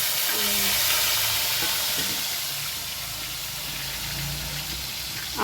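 Potatoes fry in a generous amount of oil with a steady, loud, close sizzle and hiss that holds almost unbroken throughout, with faint low clatter underneath.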